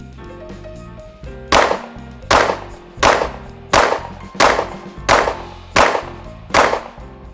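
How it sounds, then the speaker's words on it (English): A Springfield Armory Echelon 4.0C pistol fires seven loud, sharp shots at a steady pace of about one every 0.7 seconds, each followed by a short ringing decay, until the slide locks. "Run the rest of the mag till slide lock."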